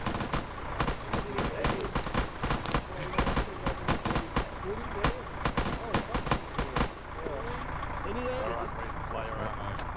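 Rapid bursts of gunfire crackle through a World War Z battle at Hopeville, sharp repeated shots in irregular volleys over a dense backdrop of game noise, easing into a steadier rumble near the end; voices murmur underneath.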